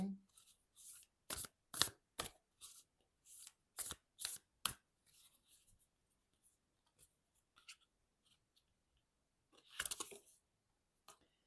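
Starseed oracle cards being shuffled by hand in a series of quick, crisp riffling bursts over the first few seconds, then quieter rustles and one more loud shuffle near the end, with no talking.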